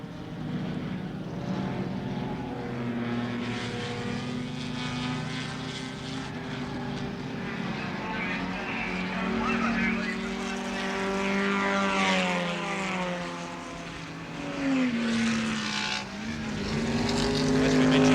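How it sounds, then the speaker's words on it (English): Production touring cars racing at Warwick Farm in 1972, the field led by Colin Bond's Holden Torana XU1, roar past in a sustained, rising and falling engine drone with gear-change sweeps, fairly loud throughout. "Bond leading from Moffat, Chivers and Brock."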